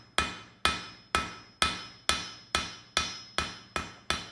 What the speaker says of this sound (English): this left one is a bit smaller, so I'm hammering